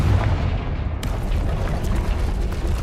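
In the Hogwarts Legacy video game, a Confringo spell explodes with a heavy low boom that opens sharply and then rumbles on, loud and near, with no talking.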